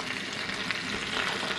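Rabbit meat browns in a frying pan with a dense, continuous sizzle, close and steady for a brief moment, with no talking.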